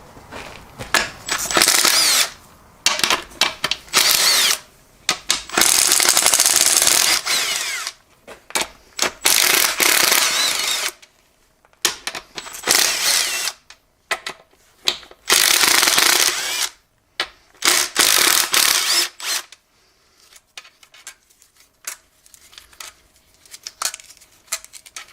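A power impact tool loosens the pump bolts on a C6 transmission during a teardown for a 1980 F-350 service truck, repeated loud bursts of whirring and rattling separated by short pauses, close up with no talk.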